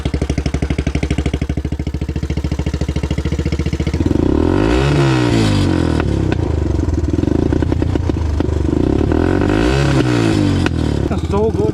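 A Honda three-wheeler fitted with a cheap aftermarket Temu exhaust idles with a rapid, even putter, then revs up loudly in two rising and falling bursts of engine roar, close to the microphone.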